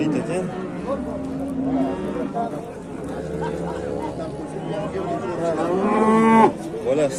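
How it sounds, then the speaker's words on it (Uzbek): A hybrid cow moos amid a murmur of voices and crowd chatter, her longest and loudest call rising near the end before cutting off. "navbatdagi sigirimiz gibrid ekan"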